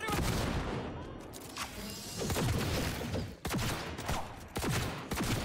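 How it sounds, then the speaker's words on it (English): Gunfire in Cyberpunk 2077: loud, close bursts of shots and blasts in an irregular rhythm, with sharp cracks recurring over a dense, noisy background. "Why are we shooting people to death"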